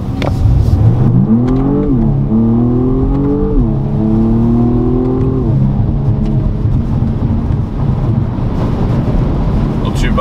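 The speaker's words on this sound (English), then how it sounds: "Let's put it into drive, into sport. Okay, let's go." 2020 BMW 135i accelerating hard in drive sport mode, engine tone climbing and dropping through smooth gear changes, loud and close from inside the cabin with rushing wind and road noise.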